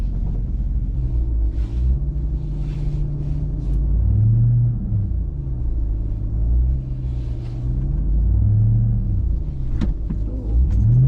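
A 2021 Ram TRX pickup crawls over rocks in the Rockies, its engine a steady low rumble that rises and falls in slow swells as it climbs, with an occasional sharp knock from the terrain.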